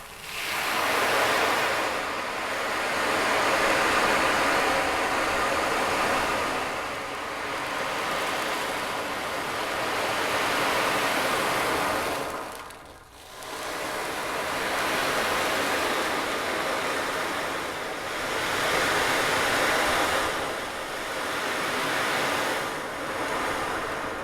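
An ocean drum imitates waves breaking on a beach: slow, swelling washes of hissing noise that rise and fall in a regular rhythm, with one brief pause midway, heard alone.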